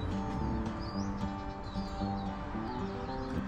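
A bird chirps among leafy plants heavy with flowers, short high calls rising briefly over a steady outdoor hum and background noise.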